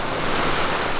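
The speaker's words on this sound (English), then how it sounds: "these little waves pack a little punch." Small ocean waves break on Hollywood Beach in a continuous loud wash, heavy with wind buffeting the microphone, close and with no voices.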